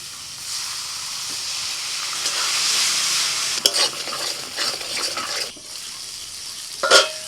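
Water poured into a spice mixture frying in a pan for a pomfret masala curry, a rising steamy hiss and sizzle that swells, then breaks into sharp bursts of bubbling and sputtering, close and fairly loud, with no talking.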